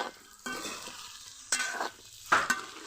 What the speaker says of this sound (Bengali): কোনো মশলা দেওয়ার আগে এভাবে একটু ভেজে নিব তাহলে আর কুমড়োগুলো ভাঙবে না